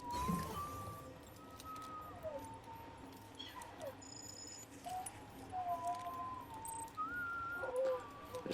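Melodic whistling to the baby BB in the video game Death Stranding, sustained wavering tones rising and falling across several phrases, fairly quiet over faint game ambience.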